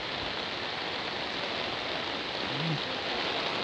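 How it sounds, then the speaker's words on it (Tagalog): Steady, dense rain hisses close and unbroken as a typhoon approaches a house in the Philippines, a continuous wash of falling water with no talk over it. "Yan ay ulan, yan ay bagyo."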